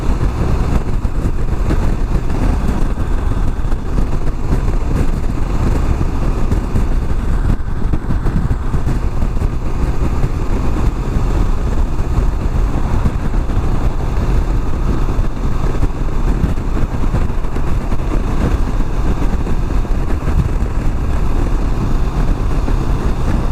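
A motorcycle cruising along a well-kept Spanish road, with a steady, loud, continuous engine drone and wind rush that holds constant throughout, no talking.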